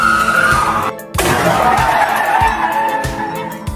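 Car tires skid and squeal loudly and steadily on the road, a sustained screech that breaks off briefly and then resumes with a strained engine beneath it.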